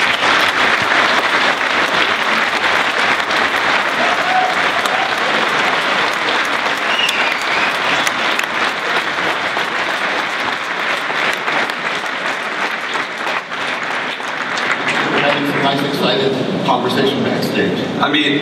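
Large audience at the CeBIT 2014 trade fair gives sustained, dense applause for a guest, a loud continuous wash of clapping that thins slightly near the end as a voice begins speaking.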